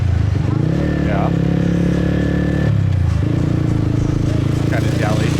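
Motorbikes drone through the streets of Saigon, Vietnam, at night while riding on a motorbike. A close, steady engine hum shifts in pitch as the bike speeds up and slows, with passing traffic around it.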